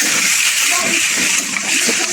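Water gushes and splashes into a pot of native-chicken tinola, a steady pouring rush lasting the whole moment with faint background voice underneath.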